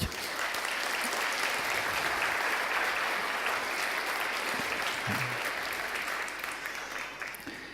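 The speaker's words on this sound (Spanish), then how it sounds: "Dele un aplauso al Señor por ello." A church congregation applauds in praise during a Spanish-language service, with a steady, dense wash of clapping that holds loud and continuous throughout and tapers slightly at the end.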